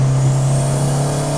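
A fully built Mitsubishi Lancer Evo V engine holds a steady, close droning note with a constant buzzy tone under a faint high whine, brief and without talk.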